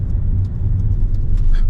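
A car drives along a road in Seoul, heard from inside as a steady low engine and road rumble with faint ticking and soft noises, no talking.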